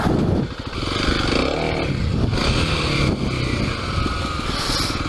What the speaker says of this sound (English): Actually pull wheelies in the dirt now. Maybe second gear wheelie?